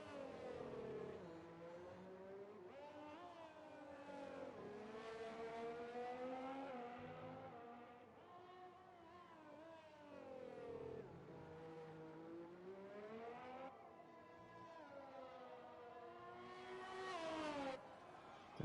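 A Formula 1 car in F1 2020 at the Brazil circuit wails through a flying lap, its engine note climbing and dropping steadily with gear changes, loud and continuous with no voices over it.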